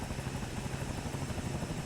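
Bell 222B helicopter by Cowansim in Microsoft Flight Simulator, a steady close rotor and turbine drone with a rapid low chop and broadband whine, continuous and even, with no voices.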